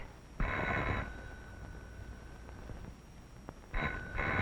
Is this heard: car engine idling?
no